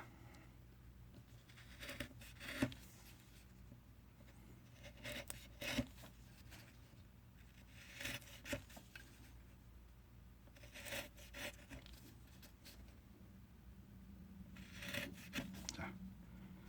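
A knife shaves and carves wood to shape a spinning float for trout fishing, close, soft scraping strokes coming in short bursts with quiet pauses between them.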